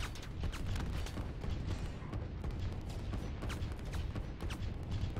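Artillery fire from the strategy video game Line War, heard as a steady, moderately loud rumble dotted with repeated distant thuds and booms throughout.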